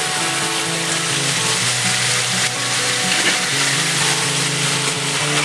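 A steady, loud sizzle of onion-garlic masala frying in hot oil in a home kitchen, continuous crackling close up with a faint tonal hum beneath and no talking.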